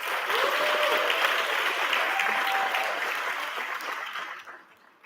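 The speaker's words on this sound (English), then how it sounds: "Let's give them both another round of applause." Applause at a university coronation ceremony for the newly crowned Mr. and Ms. winners, a sustained dense crowd clapping that holds steady and then fades out near the end.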